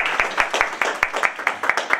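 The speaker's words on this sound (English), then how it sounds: "Please give an applause." Audience applause at a university event, a small group clapping in a fairly regular rhythm with distinct individual claps close by, moderately loud.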